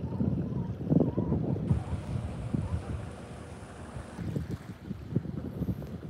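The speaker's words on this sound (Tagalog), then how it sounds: "Mahangin." Wind gusts across a beach in a continuous roar of microphone buffeting, with faint surf and water noise underneath and no voices.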